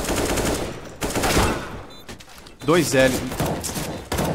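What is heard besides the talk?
gunfire in a video game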